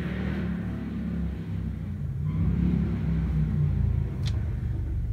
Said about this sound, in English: That's a loud motorcycle.